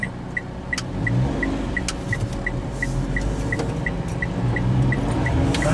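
An Indy 727 light camper truck on a test drive, its engine and road noise a steady rumbling drone from inside the cab, with a faint regular ticking like a turn signal running throughout.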